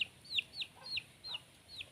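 Chickens making repeated short, high clucks and chirps in a quick rhythm, moderately close in a quiet outdoor setting.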